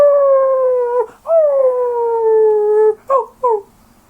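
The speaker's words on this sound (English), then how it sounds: "Also, this is my dog." A dog howls in long, sustained wavering tones, breaking off briefly and ending with two short whimpering yelps, close and loud with no other sounds.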